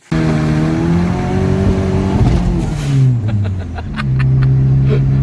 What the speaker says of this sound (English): So we're gonna go for a drive out in the night.